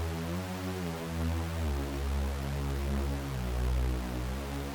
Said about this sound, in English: I just have a saw set to 16 voices.